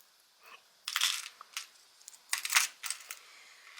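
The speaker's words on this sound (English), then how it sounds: "And more little glass shells. No, glass beads." Small glass beads clink and rattle while a craft box is unboxed, a few quiet bursts of bright clicking spread over several seconds, close and alone without talk.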